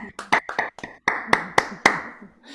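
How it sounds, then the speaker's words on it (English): Close, loud hand claps from an online audience applauding poets at a poetry night, about eight separate sharp claps in an uneven rhythm, ringing out alone with short gaps between them. "give everyone, all of the poets, a round of applause"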